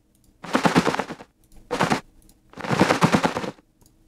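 A towel flapped in the air to fake bat wings for an Unreal Engine 4 sound cue: three bursts of dense fluttering whooshes, two long and one short, close and fairly loud with brief pauses between.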